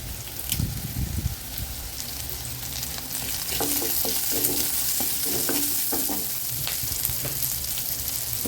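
Onions and curry leaves sauté in a pan for a banana-stem kootu, crackling loudly and close, with a thick, continuous sizzle and occasional spatter pops and stirring scrapes.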